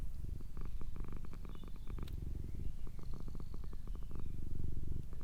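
A cat purrs close up, a low rumbling purr that pulses in rhythmic bursts and continues steadily throughout.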